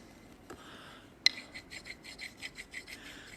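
Rhythmic rasping strokes as stained glass pieces are rubbed down, a sharp tap followed by about a dozen even, close, moderately quiet scrubbing passes.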